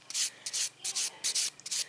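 A buffing pad rubs over oiled fingernails during a male manicure in short, brisk back-and-forth strokes, close and soft, about seven quick swipes with no talk.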